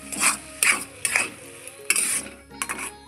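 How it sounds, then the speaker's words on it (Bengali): Semolina being poured slowly into a pan and stirred continuously for a snack with boiled potatoes: a run of scraping, clinking spoon-on-pan strokes in uneven bursts, close and fairly loud, with no talking. "এখন দিয়ে দিচ্ছি আস্তে আস্তে করে সুজি আস্তে আস্তে করে দিতে হবে আর অনবরত নাড়তে হবে যেন গলা না পাকে যায়"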